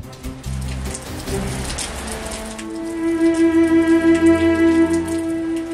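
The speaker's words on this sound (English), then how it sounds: "Torrential rain occurs in this season," Torrential monsoon rain pours down in a dense, steady roar of drops drumming on surfaces, loud and continuous, with a sustained tone rising in the second half.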